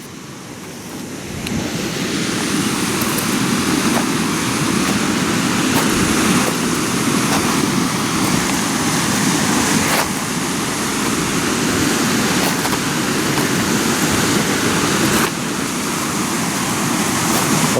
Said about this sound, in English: Now we're at the river, and it's a murky chocolate cover today